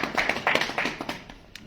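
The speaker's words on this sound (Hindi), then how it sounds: "तालियां एक बार पुनः, तालियों की गड़गड़ाहट इधर से देखिए" Hand clapping from an audience at a community association meeting, a dense patter of claps filling the short stretch at steady loudness before thinning toward the end.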